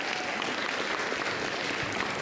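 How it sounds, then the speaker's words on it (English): Applause from an audience at a community volunteer thank-you event, steady dense clapping throughout with no voices over it. "a big round of applause to her"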